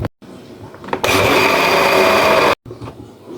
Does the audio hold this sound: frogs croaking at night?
no